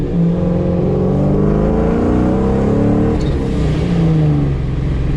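A 1999-2004 Ford Mustang GT with a stock two-valve naturally aspirated V8 drives hard, its engine droning and climbing in pitch as it accelerates and shifts, loud and close throughout with no talking.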